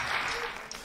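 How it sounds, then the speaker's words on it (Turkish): A television studio audience claps briefly, a short burst of steady, moderately loud applause. "Alkışlarla uğurluyorum."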